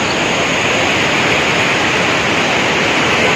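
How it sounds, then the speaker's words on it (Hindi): Waterfall on the mountain road about five kilometres before Devprayag, a loud, steady, broadband rush of falling water that fills the whole clip with no breaks and no voices. "देवप्रयाग से लगभग 5 किलोमीटर पहले है एक झरना"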